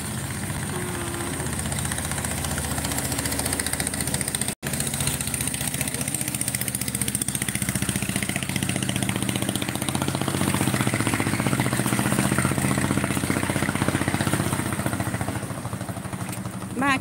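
Boat engine running close by on a river, a steady loud motor drone that holds throughout with little change as the boat passes.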